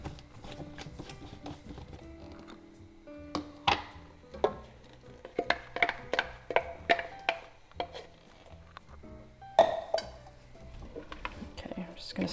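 Vegan Thai massaman curry stirred in a pot, with a run of irregular spoon-on-pot knocks and scrapes, fairly close and moderately loud, spaced through the clip with brief pauses and no talking.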